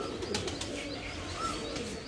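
Pigeons coo softly in a village loft, faint low murmurs over a steady background hiss with a few light chirps, no talk.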